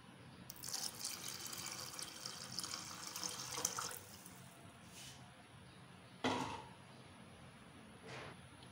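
About one litre of water poured into a pot of lentils for daal: a steady faint splashing pour lasting several seconds, then a few separate splashes and drips, with no talking.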